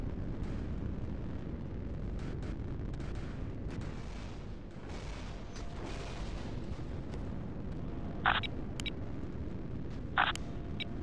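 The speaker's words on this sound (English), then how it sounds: "Missile on the way." Missile launches and blasts in a 4v4 space strategy game with OSP rocket shuttles: a steady roaring rumble throughout, with two sharp bright bursts near the end standing out against the din.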